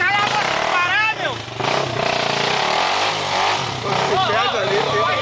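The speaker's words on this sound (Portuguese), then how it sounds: "essa aí é a moto do Pará, meu" A motorcycle engine revs and climbs in pitch on a dirt trail at Morro da Bento in Porto Alegre, rising twice in short bursts under near, steady talk from riders.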